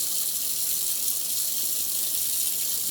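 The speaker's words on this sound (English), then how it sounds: "Just run a little bit of water on that" Tap water runs steadily over charred tomatillos in a sink, a constant hissing splash at moderate volume with no pauses and no voices.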